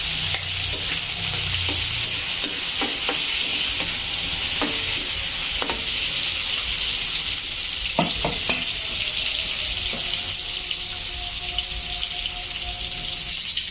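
Onions sizzle steadily in a hot pan for ginisang repolyo, a constant frying hiss with occasional scrapes and clicks of a spatula stirring, close up and without voices.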